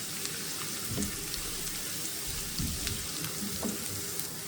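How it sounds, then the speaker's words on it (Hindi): A teaspoon of cumin seeds frying in hot oil in a pan while cooking mash daal, a steady soft crackling sizzle with faint pops, heard up close and without talk. "1 टीस्पून हम इसमें ज़ीरा जो है वो शामिल करेंगे। ध्यान रहे आपने चीज़ों को जलाना नहीं है, बस भूनना है।"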